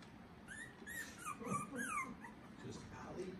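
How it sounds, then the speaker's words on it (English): A puppy gives a string of thin, high whimpers and whines close by, rising and falling in short cries over faint room noise and quiet human voices. "only Hallie puppies are out here"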